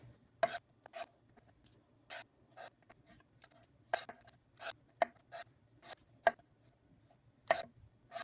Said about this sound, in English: I've chopped up most of the mushrooms